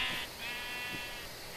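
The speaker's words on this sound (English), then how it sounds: "Lots of sheep." A flock of Minecraft sheep in the video game bleats, giving two or three short wavering bleats close by, with no talking.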